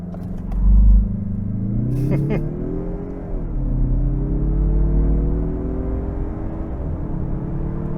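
Turbocharged 2024 Mazda CX-30 accelerating hard from 0 to 60, engine note rising through gears with audible shift dips, a steady close rumble from start to finish.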